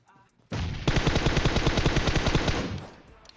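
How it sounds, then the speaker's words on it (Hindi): Sustained automatic gunfire in a video game: a rapid, loud, evenly spaced burst of shots running for about two and a half seconds before cutting off, with no talk over it. "उस बंदे ने कौन सी गन चलाई लेकिन यार जो भी गन चलाई बहुत बुरी तरह चलाई"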